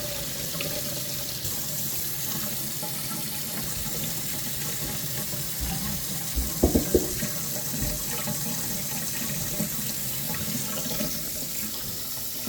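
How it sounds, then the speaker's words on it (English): Hot water runs steadily from a kitchen tap in a home, a continuous hiss of flowing water into the sink with a few brief clunks partway through and no talking. "turn your hot water on in your kitchen again?"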